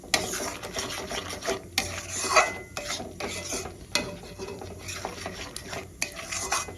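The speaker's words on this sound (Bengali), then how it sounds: "কাজু আর তিলটা দিয়েও খুব ভালো করে কষাতে থাকবো, কাঁচা গন্ধটা চলে যাওয়া পর্যন্ত।" Spice paste with cashew and sesame stir-fried in a pan for Bengali malai katla, a spoon scraping and stirring steadily with soft sizzling and occasional sharp clinks against the metal, close up and continuous with no talking.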